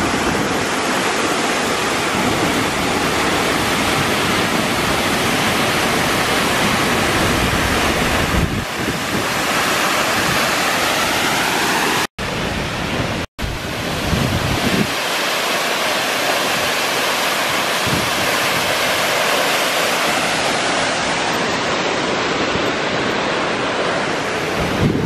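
Hunua Falls waterfall pours in a loud, steady roar of dense rushing water that fills the whole stretch, with wind buffeting the microphone and two brief dropouts midway.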